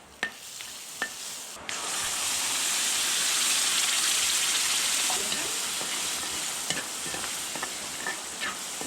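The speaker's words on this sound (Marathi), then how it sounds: "आता वाटण भाजून घेऊया" Ground peanut, cumin, turmeric and green chilli paste stirs and fries in a pan, a steady broad sizzle swelling after a few scrapes, with occasional spoon taps and clicks over the hiss.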